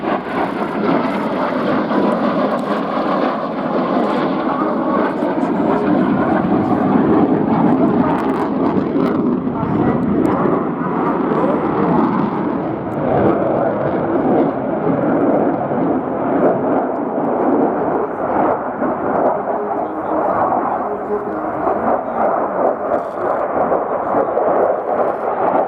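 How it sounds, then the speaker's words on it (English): Eurofighter Typhoon jet fighter displaying at the Royal International Air Tattoo air show, a loud continuous roar of jet engine noise that swells and fades slightly as it passes, broad and sustained throughout. "There's the F-2008 Typhoon"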